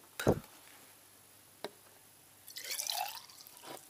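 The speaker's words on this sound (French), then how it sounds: "Je verse de l'essence dans les conduits." Petrol poured into the valve ports of a Renault V72 tractor engine, heard as a brief wet splash, a single sharp drip, then a longer patter of trickling liquid, close and fairly quiet.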